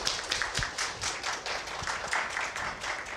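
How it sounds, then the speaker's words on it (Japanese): A small group claps at a Ruby programming meetup during a live-coding session, a brisk pattering of hands in quick uneven rhythm, moderately close and with no talking over it. "拍手お願いします。"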